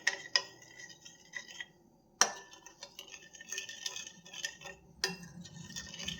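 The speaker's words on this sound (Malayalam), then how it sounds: "ഒരു സ്പൂൺ ഈസ്റ്റ് ചേർക്കുന്നുണ്ടേ നന്നായിട്ടൊന്ന് മിക്സ് ചെയ്ത് കൊടുക്കാം" A spoon clinking and scraping around a bowl while sugar and yeast are stirred together, a run of sharp, close taps and scrapes in bursts separated by short pauses, with no voices.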